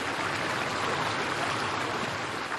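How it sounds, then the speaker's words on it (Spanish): Water channelled through a wooden gold-panning structure high in the mountains of Georgia, a steady close rushing flow like a stream that continues without a break. "Consiste en conducir el agua a través de una estructura de madera"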